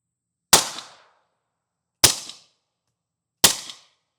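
Three sharp, evenly spaced gunshots fired through a welded tuna-can suppressor, each a loud crack with a short fading tail, separated by silence.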